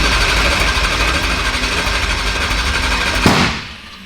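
Supercharged junkyard engine in a burnout truck runs loud and rough, a steady harsh mechanical roar ending in a sharp bang before it drops away.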